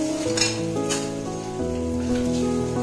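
Fish frying in hot oil in a wok, a steady loud sizzle running throughout under sustained melodic tones.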